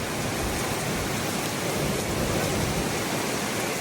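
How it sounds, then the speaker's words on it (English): Steady, heavy rain from a tornado-warning storm pours down with a dense, constant hiss, loud and unbroken, with no voices. "the rain's coming in different directions"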